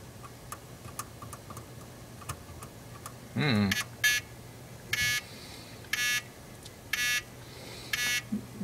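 An electronic alarm buzzer beeps in short, evenly spaced bursts about once a second, loud and harsh, after a brief sweeping tone, with a steady low hum underneath; it stops when a password is entered.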